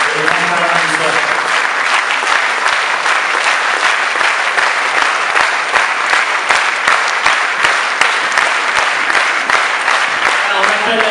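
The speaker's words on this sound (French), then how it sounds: "je voudrais vous mettre le grand applaudissement" Loud, sustained applause from an awards-ceremony audience honoring a lifetime-achievement prize, dense steady clapping filling the whole stretch without a break.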